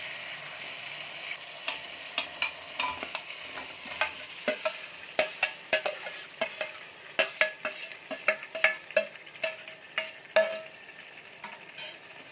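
Marinated potatoes sizzling in thick tomato gravy in a pan while being stirred, with a soft steady fry and repeated sharp clinks of a spatula scraping the pan.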